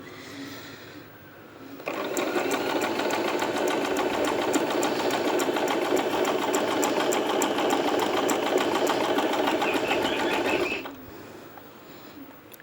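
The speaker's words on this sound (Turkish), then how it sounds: "ben e, biraz evvel gösterdiğim gibi zikzak dikiş ayarına getiriyorum." A Singer Promise 1408 sewing machine runs steadily for about nine seconds stitching a zigzag, its fast rhythmic mechanical chatter starting and stopping cleanly, close and fairly loud with no talking.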